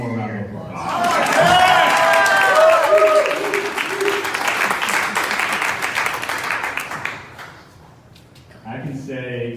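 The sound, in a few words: audience applause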